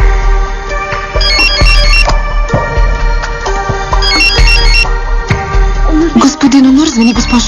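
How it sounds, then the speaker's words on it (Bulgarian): A telephone ringtone chirps in a repeating electronic melody, loud and close. It plays over a dense background of music and room sound, with a voice-like murmur rising near the end. "звъни, госпожо"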